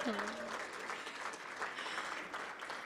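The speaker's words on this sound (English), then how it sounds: "Please give yourselves a round of applause." An audience at a breakfast event in person gives a round of applause, a steady, moderately loud wash of clapping throughout with a voice briefly over the start.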